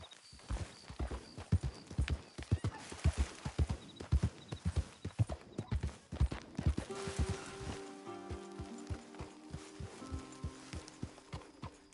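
A horse's hooves clip-clop in a quick, uneven rhythm of sharp strikes, fairly close, and a whinny rises in the later seconds as the hoofbeats continue.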